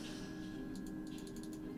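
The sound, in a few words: frantic clicking on a computer keyboard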